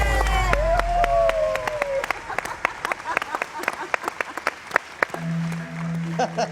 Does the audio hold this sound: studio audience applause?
yes